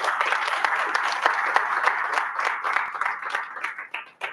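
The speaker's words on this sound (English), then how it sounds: "I think you should give them a round of applause." Applause from an audience at a Toastmasters club meeting, a steady crackle of many hands clapping that holds for several seconds, then thins out and fades near the end.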